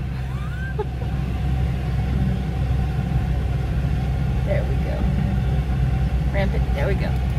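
A car drives along a rough track near a bluff in Ferguson, North Carolina, its engine giving a steady, close low rumble throughout, with voices heard occasionally over it.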